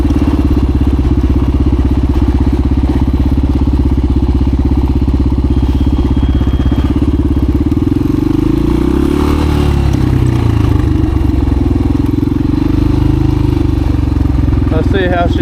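A vintage 1985 Honda XR350R motorcycle engine runs steadily up close, its low mechanical drone shifting pitch midway as the rider opens it up on a trail.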